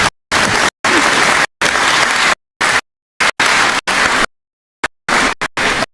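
An audience at a political speech in Ghana bursts into loud applause in repeated close bursts, each cut short by brief silent gaps.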